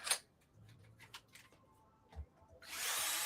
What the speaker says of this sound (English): Hey, Drinker, that drill bit isn't nearly long enough